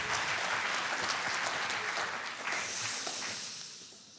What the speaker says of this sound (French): merci pour ces applaudissements alors que je n'ai encore quasiment rien dit